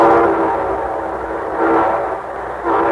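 A train rumbles close by with a sustained horn or whistle blaring over it, swelling and easing, no voices.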